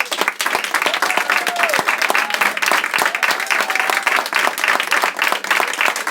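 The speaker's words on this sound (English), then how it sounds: "one more round of applause for all the hardworking" A poetry slam audience breaks into loud, sustained applause, dense clapping filling the room without letup, with a faint voice briefly audible underneath.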